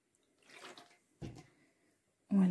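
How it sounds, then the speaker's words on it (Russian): Holy water poured in short splashing bursts, close and quiet, with brief pauses between pours and no talking. "Налью святой водички"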